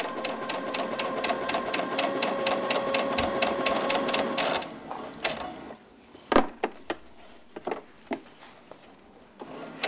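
A sewing machine stitches a seam at a regular stitch length with a steady rapid mechanical chatter and hum, then slows into scattered clicks and clunks as it stops, close and fairly quiet.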